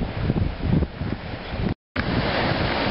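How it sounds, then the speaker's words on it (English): Strong wind roars across a beach in Nova Scotia, buffeting the microphone in loud, gusting bursts mixed with surf, cut by a brief dropout of silence before the rushing resumes. "sorry about the wind noise if there is any, but she's windy out here today"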